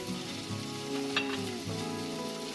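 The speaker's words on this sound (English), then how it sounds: "we're going to add the yogurt" Mushroom masala curry sizzles steadily in a wok as a couple of tablespoons of yogurt go in, a continuous close frying hiss with a brief sharper spit partway through.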